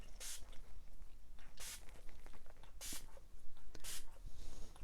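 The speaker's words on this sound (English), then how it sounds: "Any stubborn bits, just give it a spray." Four short hissing sprays of adhesive remover from a spray bottle, spaced about a second apart, close by with faint rustling in between.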